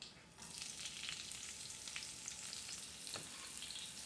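Garlic and chilli sizzle with cumin seeds in a pan for a masala prawn curry, making a steady close crackling hiss with faint popping throughout, no voices.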